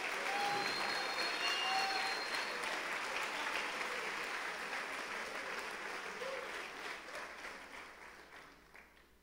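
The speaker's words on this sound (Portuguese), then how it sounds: "Vamos aplaudir, gente." Church congregation applauding during a communion service, a broad wash of clapping with some crowd noise and faint voices that slowly fades toward the end.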